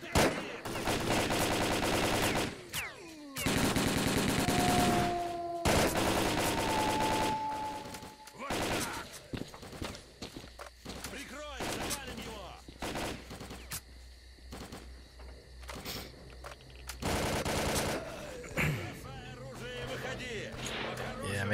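Heavy gunfire in the video game S.T.A.L.K.E.R.: Call of Pripyat, with long dense bursts of rapid shots broken by brief pauses, loud and close, while a voice talks.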